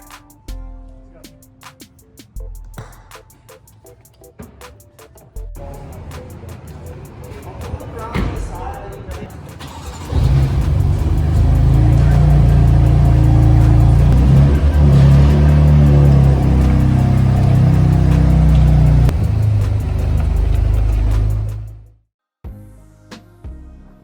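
A truck engine idles while reversing and then revs up loudly, holding a heavy, close rumble for several seconds before cutting off abruptly, with clicks and knocks early on.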